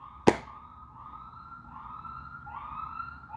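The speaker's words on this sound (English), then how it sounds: "Now that's the fire truck." A fire truck siren wails outside, its rising and falling tone steady and moderately distant, following a brief sharp knock near the start.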